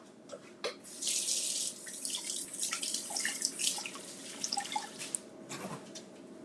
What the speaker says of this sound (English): let me wash the lemon